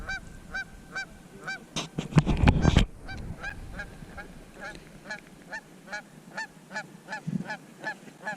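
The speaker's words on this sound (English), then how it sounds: "Geese are weird." Geese honk repeatedly in a loose, steady series of calls, moderately close, with a brief burst of loud rumbling noise partway through and quiet outdoor background otherwise.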